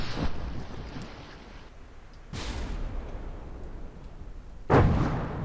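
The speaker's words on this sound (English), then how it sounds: "Ammunition has exploded." Ship ammunition exploding during a naval battle in the video game From the Depths: three heavy booming blasts with rumbling tails, the last one loudest, separated by low windy roar, with no talking.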